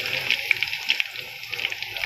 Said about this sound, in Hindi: ये भी बहुत अच्छे से फ्राई हो रही है